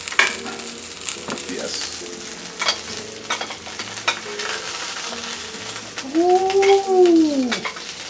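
Salmon in flavored olive oil sizzles and fries steadily in a pan on the heat, close by. A brief voice is heard along with clattering and a rising whine near the end.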